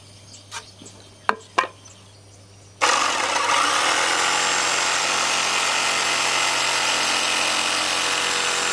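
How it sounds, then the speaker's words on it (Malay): A jigsaw cuts through pallet wood, starting abruptly after a few knocks and handling sounds, then a loud, sustained buzzing rasp close by. "Kita akan potong terus menggunakan jigsaw."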